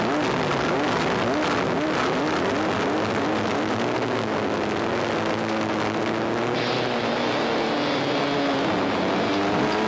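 Loud, close engines roar continuously as a race start unfolds at Grattan, one machine revving hard while its rear wheel spins up and slides, with a dense wash of engine noise and rising pitch throughout.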